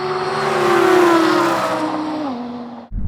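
Two rear-wheel-drive Audi R8s from different generations launch side by side in a drag race. A loud, sustained engine roar slowly drops in pitch with a hint of tire squeal, then cuts off abruptly near the end.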